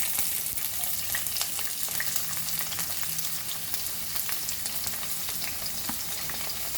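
Onion with a pinch of hing frying in a pan for Goan white peas usal, tomatoes joining in, giving a steady close sizzle with light crackles and occasional stirring scrapes throughout, no talk.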